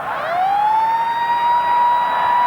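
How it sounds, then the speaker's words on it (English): A full-time siren sounds at Concord Oval stadium during the 1987 Rugby World Cup match between Australia and England, a loud, steady, sustained wail that rises briefly at the start and then holds for the whole stretch. "There's the siren."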